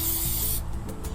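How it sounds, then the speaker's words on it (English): Spray adhesive is sprayed onto a piece of sandpaper: a steady, close aerosol hiss lasts about half a second and then cuts off, followed by a small rustle and a brief tap. "I'll take a piece of sandpaper and I spray it with an adhesive, a little two-sided or spray adhesive"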